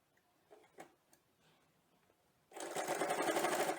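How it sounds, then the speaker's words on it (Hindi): A sewing machine stitches along the edge of a zip, starting after a few quiet clicks and handling noises and then running in a fast, steady mechanical whirr at close range. "The other part of the zip we have to stitch for the edges of the zip."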